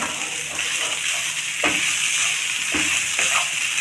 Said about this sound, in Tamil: நம்ம இப்போ ஸ்டவ் கொஞ்சம் லைட்டாக சிம்மில் வச்சு தான் மிக்ஸ் பண்ணிட்டுருக்கேன்